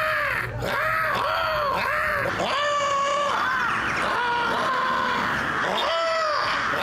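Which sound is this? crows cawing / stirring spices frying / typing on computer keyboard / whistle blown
crows cawing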